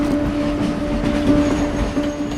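A train rolls past on a railway track right beside slum houses, a steady close rumble of wheels and carriages with faint clatter and a thin squeal, with no talking.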